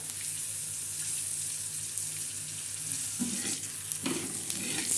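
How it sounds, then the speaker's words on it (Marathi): Onion roasts in a pan on a gas stove while a spicy black-masala chicken curry is prepared. A soft, continuous sizzle sits in the background, and a couple of stirring scrapes come toward the end, with no talking. "आता हा कांदा भाजत आहे आपला"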